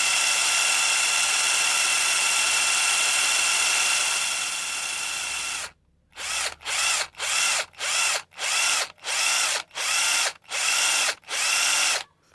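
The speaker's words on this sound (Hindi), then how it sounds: "मैंने इसको ड्रिल के अंदर पकड़ लिया है, और अब देखो कितनी ज़्यादा स्पीड से मैं इसको घुमा रहा हूँ" A scrap 775 DC motor held in an electric drill whines steadily at high speed, then the drill cuts out and runs in repeated short bursts, about nine evenly spaced pulses, loud and close.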